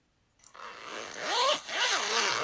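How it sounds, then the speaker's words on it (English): A clothing zipper, the kind on a camping tent or coat, pulled in two or three long rasping strokes, close and loud, with brief pauses between pulls and no talking. "It's a zipper."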